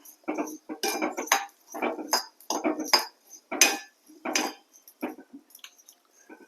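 A spoon scrapes and clinks in a pan as toor dal, chana dal and spices are dry-roasted over low heat for sambar powder, coming in irregular close bursts.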